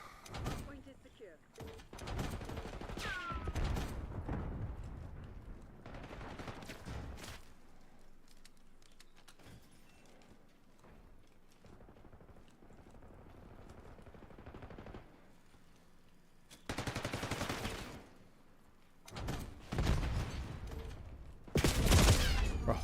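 LMG gunfire in Call of Duty, loud bursts of rapid automatic shots scattered across the clip, with quieter stretches of game ambience and a player talking between them.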